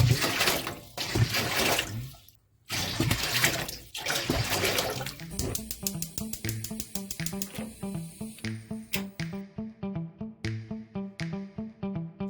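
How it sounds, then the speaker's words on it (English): Water runs steadily into a large pot for boiling clothes to dye with coffee grounds, a loud rushing pour that breaks off briefly, then resumes before giving way to a series of rhythmic knocking, ticking sounds. "I filled it with water and started boiling."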